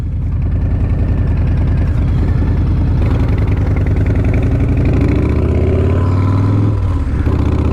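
A Harley-Davidson motorcycle out riding gives a loud, steady throbbing engine drone close by. Its pitch climbs and wavers near the end as the rider opens the throttle.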